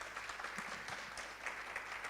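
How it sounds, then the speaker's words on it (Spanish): Faint, distant audience applause at a panel session on a cannabis and industrial hemp cluster, a steady patter of many hands clapping with no voices on top. "un fuerte aplauso nuevamente para ellos."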